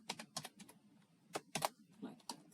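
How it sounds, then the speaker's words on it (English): Keystrokes tap on a computer keyboard in short bursts and single clicks, close and fairly soft, with pauses between them. "or you can just type it."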